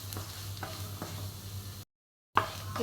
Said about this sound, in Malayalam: ഇനി ഈ മസാല ഒന്ന് നന്നായി ഇതിൽ മൂത്ത് വരണം. അതുവരെ നമുക്കൊന്ന് ഇളക്കി കൊടുക്കാം.